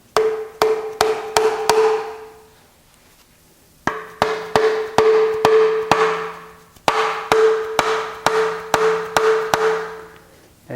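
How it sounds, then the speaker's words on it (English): Repeated sharp metallic hammer taps on a putty knife at an oil pan on a Chrysler 3.2/3.6 engine, in quick bursts, each strike ringing with a clear tone, grouped in runs with short pauses between. "start tapping on it with a hammer"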